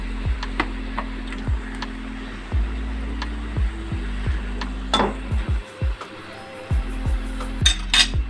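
Chicken filling stirred with soy and chilli sauce in a pan, a spoon scraping and clinking against the metal in repeated knocks and short strokes, close and fairly loud with no talk.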